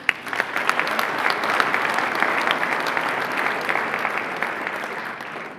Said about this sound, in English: I can tell you he deserves a lot of applause,